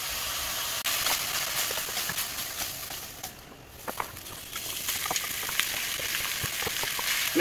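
Raw pork sizzling as it sears in a hot pot for a pork, white bean and kale soup, a continuous loud hiss with crackling pops, dipping briefly midway before rising again.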